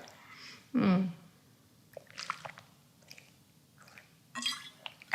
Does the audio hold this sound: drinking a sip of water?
yes